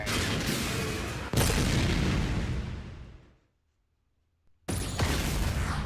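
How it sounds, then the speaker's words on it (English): Ultra Sword special attack in the Kirby Air Riders video game: a loud, sustained explosive roar with booming bursts, dropping abruptly to near silence before another heavy blast kicks in. "This'll finish him! Ultra Sword!"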